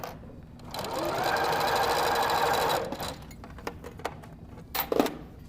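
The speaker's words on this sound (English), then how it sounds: "And then we're going to sew on that line." A sewing machine stitches a diagonal seam on a quilted beret, a steady close whirring run of about two seconds, followed by scattered clicks and fabric handling.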